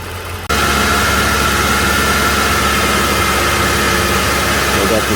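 A 2011 Toyota Tacoma 2.7 engine with a suspected head gasket problem runs at raised RPM, a loud, steady roar with a constant whine that kicks in abruptly after a brief quieter moment.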